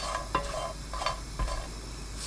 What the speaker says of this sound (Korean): 냄비에 손질한 국물용 멸치 15마리 넣고 센 불로 1분 볶습니다.